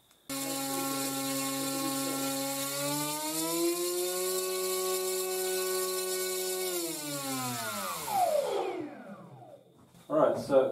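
An electric motor drives a 10-inch propeller with a loud, steady whine that climbs slightly in pitch, holds for several seconds, then winds down in a falling glide before brief clattering noises.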